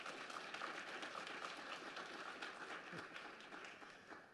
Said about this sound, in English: they need another round of applause